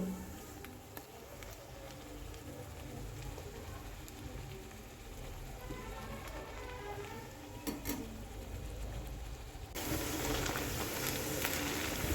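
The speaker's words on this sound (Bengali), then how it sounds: "একটা একটা করে আমি ভেজে তুলে নেব সব লুচিগুলোই" Flattened-rice (chira) luchi fry one at a time in hot oil, giving a soft, steady bubbling sizzle that grows louder and denser near the end, with no talking.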